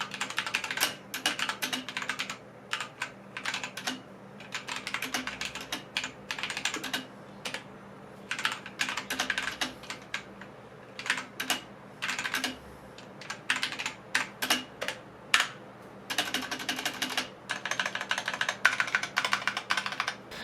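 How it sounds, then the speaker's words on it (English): Steady typing on an XTRFY K2 RGB mechanical keyboard with Kailh red switches fills the clip, with rapid, uneven clusters of close, crisp keystrokes and short pauses between bursts. "here's just a quick sound test of how these Kale red switches sound"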